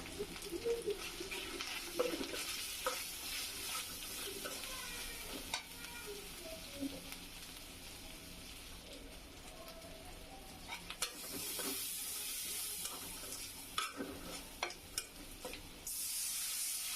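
Small dried fish with potato, turmeric, chili and coriander powder fries in a pan: a continuous quiet sizzle and hiss with intermittent stirring scrapes and soft clatter.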